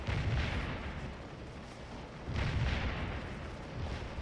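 Artillery fires in an American Civil War strategy video game during a battle involving Oliver Howard's XI Corps. Two heavy booming rumbles roll out about two seconds apart, each fading into a dense, noisy wash.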